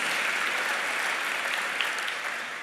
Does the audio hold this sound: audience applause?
yes